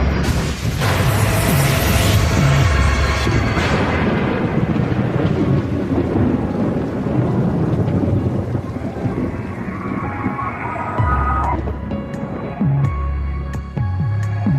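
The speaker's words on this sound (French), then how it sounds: "En plein milieu d'un orage." Thunderstorm with heavy rain and deep rolling thunder, loud and dense throughout, with low booming rumbles and a steady roar of rainfall.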